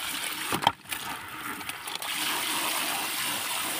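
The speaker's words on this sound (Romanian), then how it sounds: "Punem apă." Water pours steadily into a container to mix a bio insecticide solution, a close splashing gush that settles into a continuous stream.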